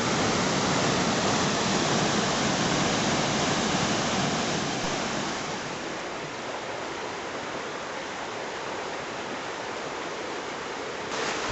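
The Devil's Cauldron waterfall near Comrie in Scotland roars as a dense, steady broadband rush of falling water, loud at first and easing slightly after a few seconds, with no voices.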